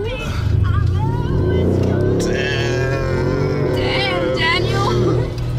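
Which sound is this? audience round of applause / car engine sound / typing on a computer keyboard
car engine sound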